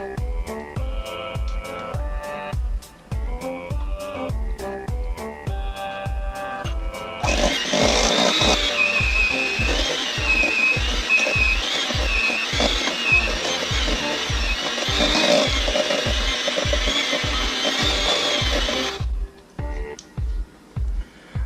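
An electric mixer whirs steadily while its blades beat a thick dessert calzone dough, a loud continuous motor drone with a regular rhythmic thumping that strains harder midway, then eases before stopping.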